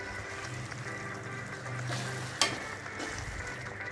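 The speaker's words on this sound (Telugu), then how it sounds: "పన్నీర్ని మెల్లిగా కలిపి ఉడికించుకోవాలి" Paneer simmers in palak gravy while being gently stirred, a low bubbling sizzle with soft scraping and one sharp utensil knock.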